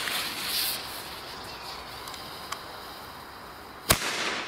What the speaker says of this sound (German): Jetzt der Xplode, die Böller.